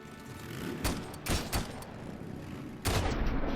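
Gunshots in Robocop Rogue City: a few loud, sharp bursts stand out over a steady rumbling combat background, the last shot ringing out near the end.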